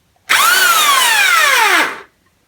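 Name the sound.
Qualcast hedge trimmer motor whizzing, blades not moving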